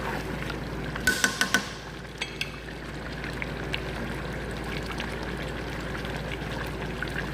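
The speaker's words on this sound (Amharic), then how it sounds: "ትንሽዬ ውሃ እጨምርበታለሁ።" Water poured into a pot of meat stew (Arabic salona laham) as it cooks, a brief splashing burst lasting a couple of seconds over a steady simmering background hiss, fairly close.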